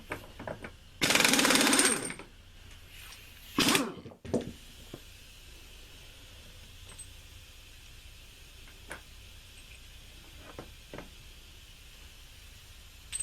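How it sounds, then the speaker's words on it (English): A nut comes off the main gear of a T-90 transmission during a teardown, first a loud burst from a power tool, then a second shorter burst, followed by scattered metallic clicks and taps in a quiet workshop. "we are now down to removing the nut off of the main gear so that we can remove the output gear"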